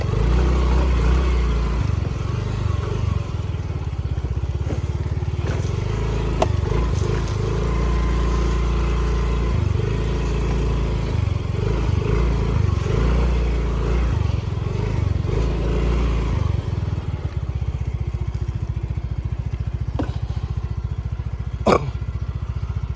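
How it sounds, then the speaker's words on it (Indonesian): An automatic scooter motorcycle climbing a rough mountain track, its engine droning steadily near the microphone with shifting revs, then easing off toward the end, with some talk faintly underneath. "Saya pakai motor metik ini."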